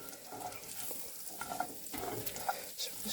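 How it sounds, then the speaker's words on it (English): Flour mixed into hot fat in a cast iron pan gives a soft, steady sizzle with faint scraping strokes and small clicks of a utensil, fairly quiet and with no talking. "So just get that mixed in there."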